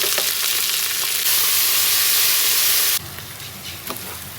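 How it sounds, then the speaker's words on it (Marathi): Chopped onion and tomato frying in well-heated oil for Malvani mutton curry, a loud dense continuous sizzle that drops to a quieter crackle partway through, with no voices. "तर आता आपलं तेल बऱ्यापैकी तापलेलं आहे. आपण कांदा आणि टोमॅटो त्यात टाकणार आहोत."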